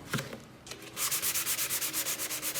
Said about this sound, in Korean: 그리고 나서 이 부드러운 스펀지 면을 대고 이제 다듬어 주시면 돼요.